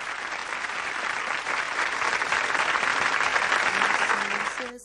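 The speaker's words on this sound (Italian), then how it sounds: "accogliamolo con un grande applauso" A large audience applauds to welcome a singer onto the stage, a dense, steady wash of clapping that swells slightly and holds for several seconds before cutting off abruptly.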